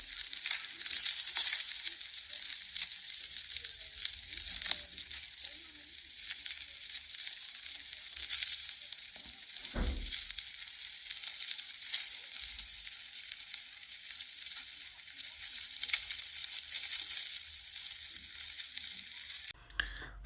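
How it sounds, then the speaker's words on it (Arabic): Calf fillet sizzling on a charcoal grill at home, a steady broadband hiss that holds at an even level throughout, with a single short knock near the middle. "صوت الشوي روعة وريحته جنان"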